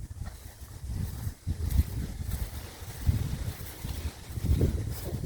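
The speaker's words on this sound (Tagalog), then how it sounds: "Grabe yung hangin." Strong wind blows outdoors across a vegetable garden of tomato and cucumber plants, a steady low rumbling buffet on the microphone with surging gusts that rise and fall, no talking over it.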